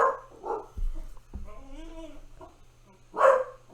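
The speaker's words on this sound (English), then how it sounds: "My dog is throwing a fit." A pet dog barking in a fit, several loud yaps and whimpering bursts in short irregular clusters close by, with a low hum underneath.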